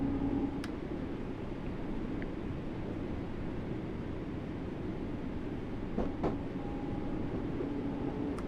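A train in the game Train Sim World 3 rumbles along steadily through a dark tunnel with a low continuous roar, a few faint clicks and brief tones sounding over the drone.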